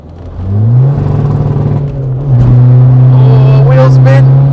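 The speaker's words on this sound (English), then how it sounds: "Oh, wheel spin." A Volkswagen Scirocco TDI with a JAP CAN style exhaust launches hard with wheel spin, its loud, close engine note climbing steadily toward a higher-pitched roar at the end, with voices talking over it.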